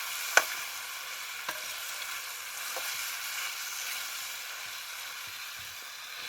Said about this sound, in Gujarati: મીઠું હળદર નાખીને હલાવી નાખશું ને આપણે તેલમાં જઈને પાકવા દઉં